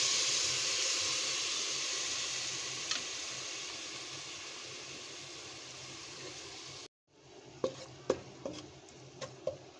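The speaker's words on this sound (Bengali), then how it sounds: "আদা রসুন বাটা দিয়ে এই যে মশলাটা সুন্দর করে কষিয়ে নিলাম" Spice paste with ginger-garlic paste and meat masala powder fries in a pan with a steady, loud sizzle for about seven seconds, then cuts to a quieter hiss with a few sharp utensil clicks.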